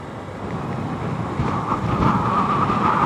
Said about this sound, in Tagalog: Lakas din ng hangin dito.